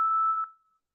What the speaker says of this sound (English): you can hear the melodic tones of JS8CALL